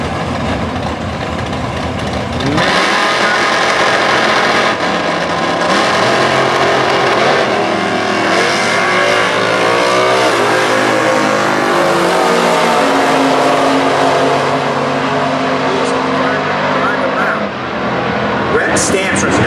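1978 Camaro launching in a Super Gas drag race at Indy, a loud engine roar that swells after a quieter start and holds a dense, rising drone, with an announcer talking over it.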